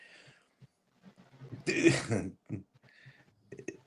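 A single close, sharp sneeze bursts out in the middle of a quiet indoor podcast conversation, with brief murmured speech before and after it.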